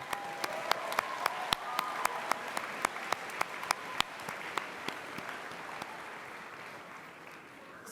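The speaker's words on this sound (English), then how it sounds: "So and one last round of applause for our judges today," A cosplay competition crowd gives the judges a sustained round of applause, dense clapping with distinct loud close claps standing out in a steady rhythm before slowly fading.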